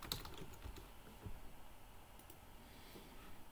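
Fast typing on a computer keyboard, with quiet, rapid key clicks in an otherwise hushed room and no voice.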